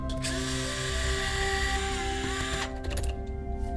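A power screwdriver whines steadily and loudly while backing out screws from the grip of a Valken alloy AEG airsoft gearbox, stopping near the end and leaving brief clicks.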